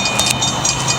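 A malfunctioning railroad crossing signal in Traverse City, Michigan, going off with no train in sight, ringing in quick repeated bell strikes over a steady, loud background wash.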